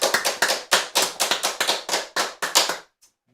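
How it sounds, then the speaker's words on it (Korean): Applause from a church congregation at a Sunday worship service, a steady patter of hand claps with rhythmic surges, close and fairly loud, stopping abruptly near the end. "우리 하나님께 감사의 박수 드리겠습니다."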